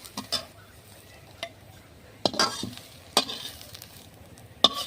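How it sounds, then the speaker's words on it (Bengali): Lightly fried grated beetroot in oil in a wok, heard as a faint low sizzle broken by several sharp spatula scrapes and clinks against the pan, close by with no voices. "বিটগুলো আমি হালকা ভেজে নিয়েছি"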